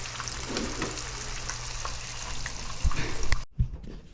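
Porgy fish frying in hot oil at about 337 degrees, a steady close crackling sizzle with scattered pops, ending in a brief clatter as it cuts off.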